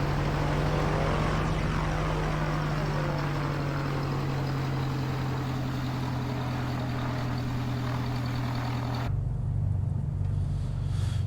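Carenado Mooney Ovation propeller plane taxiing in FS2020, a steady droning engine rumble with a low hum held close and constant, dropping abruptly in level near the end.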